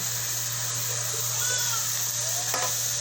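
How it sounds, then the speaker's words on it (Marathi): Capsicum stir-fried with softened tomato and onion in a pan, a steady close sizzle with a few stirring scrapes and clinks over a constant background hum. "त्यात मी आता शिमला मिरची टाकते"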